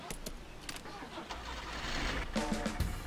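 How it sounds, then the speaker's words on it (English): Car ignition in the Jalopy driving game cranks and catches, a low rumbling engine swelling into a steady idle that grows louder toward the end, with a faint voice briefly underneath. "All right, let's turn the ignition."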